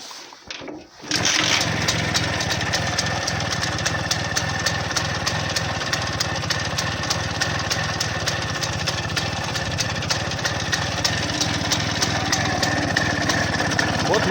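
A Minsk motorcycle fitted with an air-cooled Muravey scooter engine starts and runs, holding a steady, loud, buzzing idle with a rapid even firing rhythm close by for over ten seconds.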